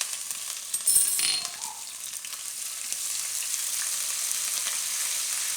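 Cumin seeds and ginger drop into hot oil for a Gujarati cashew and mawa curry, a brief clatter and burst of spitting followed by a steady soft sizzle that settles and continues close by.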